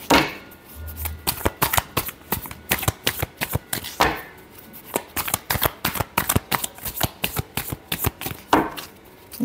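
Tarot cards are shuffled by hand in quick bursts of crisp riffling clicks, repeated in rapid groups close up with short pauses between.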